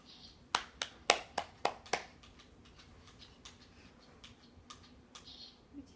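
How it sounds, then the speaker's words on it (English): A child claps hands about six times in a quick, uneven run of sharp, close slaps, then fainter ticking taps follow in a quiet room. "Can you clap your hands?"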